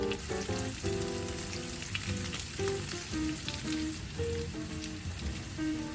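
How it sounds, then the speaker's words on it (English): Scallions, carrots, onions, peas and ginger stir-frying in a pan for fried rice, a dense crackling sizzle that holds steady throughout, with no talking. "Now I'll be adding in my scallions, carrots, onions, peas, and ginger"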